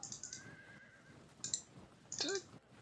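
A horse whinnies in the ancient-battle strategy game Field of Glory II, with short, faint neighing calls repeating a few times among quiet game clicks.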